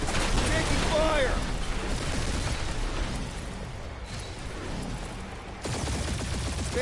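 Gunfire and combat noise from the PS4 game Marvel's Guardians of the Galaxy form a dense, continuous roar of shots and blasts, with a brief voice rising over the din.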